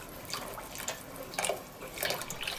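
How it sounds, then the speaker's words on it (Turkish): Milk streams into a pot while a wire whisk stirs it continuously for caramel chicken-breast pudding, a soft wet swishing and splashing that stays fairly faint and carries no talk. "Sütü ilave ederken bir taraftan da çırpma teliyle sürekli çırparak karıştırıyoruz."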